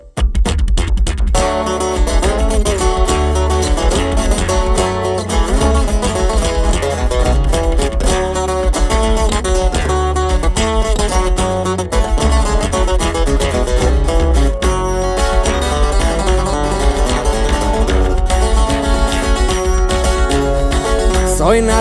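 Corrido music plays loud and continuous, a full band with steady bass and rhythmic strummed accompaniment driving along without pause, no speaking over it.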